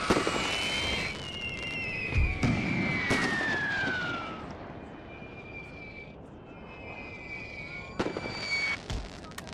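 In the video game Napoleon Total War, artillery shells whistle as they fly in with falling tones and land in dull booms and sharp bursts amid a steady rumble of battle.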